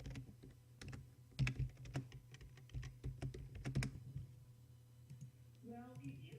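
Rapid, uneven keystrokes on a computer keyboard while entering programming code for an Android game, a close run of clicks over a low steady hum, with a short voiced sound at the end.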